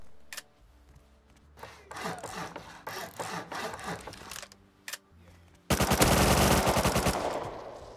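Rapid automatic gunfire sprays in a Roblox Bedwars spin-off game, opening with sharp isolated shots, then scattered bursts, and ending in a loud sustained stream of fast rounds.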